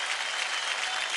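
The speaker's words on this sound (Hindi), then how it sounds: "जोरदार तालियां रेमो के रंगीले से वैभव और मोहिना के लिए" A studio audience at a televised dance competition applauds loudly and continuously, a dense wash of clapping with no pauses.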